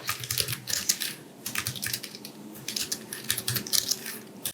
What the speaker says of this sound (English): But actually the typing,